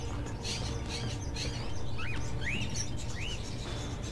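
Caged birds in the Fahrenheit video game give short, bright upward chirps, three distinct calls a second or so apart over a steady, loud background hum.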